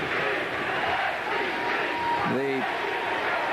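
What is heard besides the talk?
football crowd chanting SEC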